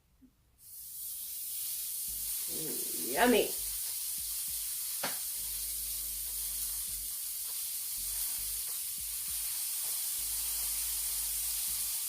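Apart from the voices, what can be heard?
steak sizzling on electric grill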